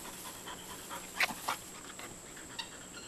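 Quiet, rapid panting from a dog close by, with a couple of brief sharper breaths over soft background noise.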